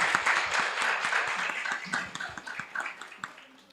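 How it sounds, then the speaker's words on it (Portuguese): Audience applauds the actors of a theatre performance, a full wash of many clapping hands that is dense at first, then thins into scattered claps as it fades. "eu quero uma salva de palmas mais uma vez para os nossos atores"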